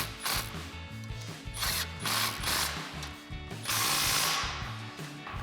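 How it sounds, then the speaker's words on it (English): A ratchet with a 15mm socket tightens a Y-pipe torque clamp on a Mustang EcoBoost, its pawl clicking in repeated short strokes, close and crisp, with no talking. "we'll come back and tighten down our Torque clamp for our Y-pipe inlet with our 15mm socket"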